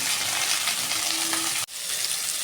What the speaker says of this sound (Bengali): সজনে ডাঁটা অ্যান্ড পেঁপে এগুলো সবার আগে একটু ভালো করে ফ্রাই করে নেব।